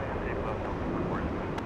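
An airliner rolling out after landing on runway 8 left at Atlanta's Hartsfield-Jackson airport, a steady broad roar of engine and wind noise heard from a distance, unbroken and even.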